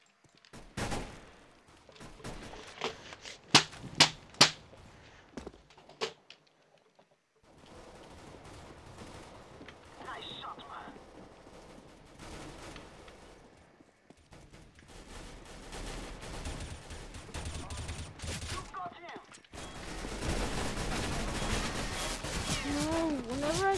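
Video game gunfire: bursts of sharp shots and rapid volleys in the first few seconds, then sparser firing and noisy combat ambience, with people talking intermittently.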